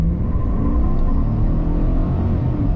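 A car with a 6.2 engine, in two-wheel drive and sport mode with traction control off, accelerates hard with a loud, close, steady low rumble throughout.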